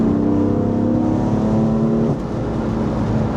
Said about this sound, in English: when we get it into sport and open it up, it is one of the best sounding BMW engines